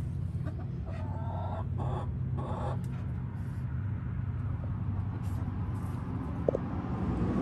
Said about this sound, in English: That's just the chickens.